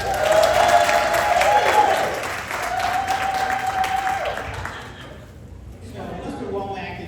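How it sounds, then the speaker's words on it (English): Audience applause at a line dance leadership forum awards event, a sustained crowd clapping wash with a held tone over it early on, then thinning and fading near the end. "So let's give them a round of applause."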